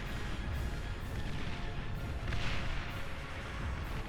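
Distant artillery pounds in a large 8v8 battle in Beyond All Reason, a steady low rumble punctuated by softer repeated booms roughly every half second, with no voices over it.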